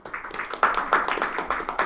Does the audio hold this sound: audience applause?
yes